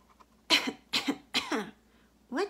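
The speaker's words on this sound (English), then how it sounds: "Turn your head away, cough into your sleeve." A person coughs in a short series of sharp, close bursts, three in quick succession and a fourth after a brief pause, during a daycare read-aloud about germs.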